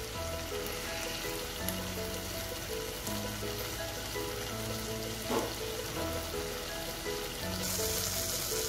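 Paneer butter masala simmering covered on a low flame, a steady soft sizzle and bubbling hiss running through the whole stretch with no talk, close and even.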